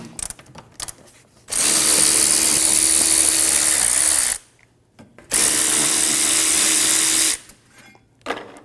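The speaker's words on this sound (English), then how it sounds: "Using a 14mm socket, remove the caliper bolts." Power tool with a 14mm socket spinning out rear brake caliper bolts on a 2008-2015 Scion xB, two loud sustained whirring bursts of about three seconds each, separated by a short pause, up close.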